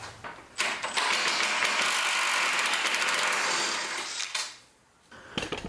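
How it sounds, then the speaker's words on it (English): Wrench working the front engine support bolt on a Can-Am Renegade XMR 1000 ATV, a rapid metallic ratcheting clatter running steadily for several seconds close up, then easing off, with a few short clicks after. "Let's get a wrench on the other side."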